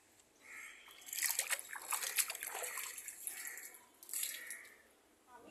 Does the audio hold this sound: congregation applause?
no